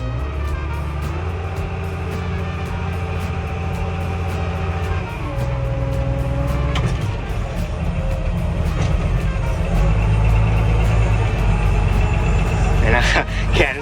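A Komatsu WA200-1 wheel loader with an extra-long arm drives with a steady, loud diesel engine drone that shifts pitch midway and swells toward the end, with a brief high whine near the close and a voice talking over it.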